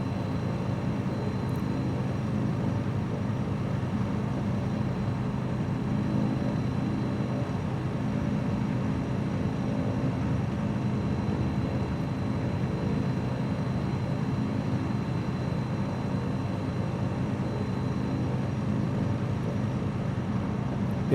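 A light propeller airplane engine in Microsoft Flight Simulator 2020 drones steadily and evenly throughout, a constant low hum with no breaks.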